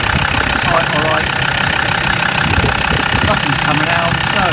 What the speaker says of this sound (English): let's start her up and see what happens, shall we? Starting okay.